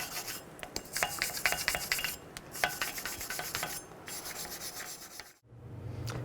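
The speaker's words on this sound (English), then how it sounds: "take a wire brush or a grinder wheel and just clean up some of the rust that's on the hub" A wire brush scrubs rust off the front brake hub of a 2010-2014 Cadillac SRX, steady close rasping strokes in uneven bursts, with a brief pause near the end.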